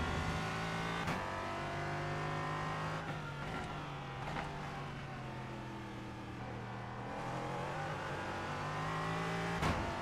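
LMP3 race car engines drone steadily at Oschersleben in iRacing. The engine pitch shifts through gear changes while the revs hold high, with occasional sharp clicks and a faint passing car.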